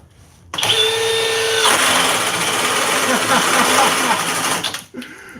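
A Milwaukee or Flex cordless drill runs at speed setting 6, starting with a whining motor that spins up into a loud, continuous high-speed whir with a slight rhythmic chatter, then cuts off abruptly near the end.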